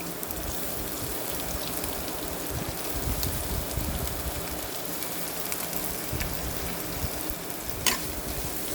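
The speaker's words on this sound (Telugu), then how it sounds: "వేయించుకున్నాం కదండి, ఇలా వేగుతుంటాయి." Onions fry in oil in a pan with continuous sizzling and crackling, a dense, even hiss with no talking.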